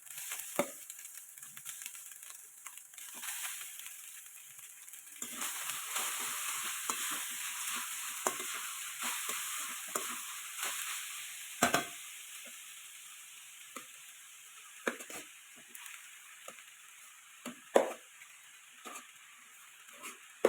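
Rice with winter vegetables is stir-fried in a pan over gas, with a quiet steady sizzle broken by irregular scraping, tossing clicks and spatula knocks, close by.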